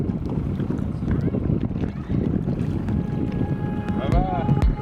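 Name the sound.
paddle splashing in shallow sea water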